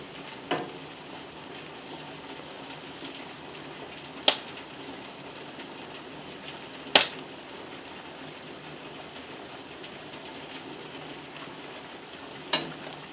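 A pot of beef tips and homemade noodles at a full boil gives a steady, soft bubbling hiss, broken by a few sharp clinks or pops, with no talking over it.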